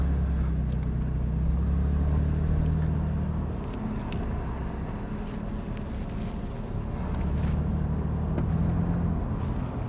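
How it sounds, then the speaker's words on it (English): Mercedes SL R230 with 80mm rear body spacers cornering hard, producing a steady low engine and road rumble with wind buffeting throughout, no rubbing audible and no talk. "I'm going to give it a little bit of a go on the corner to push the suspension over and see."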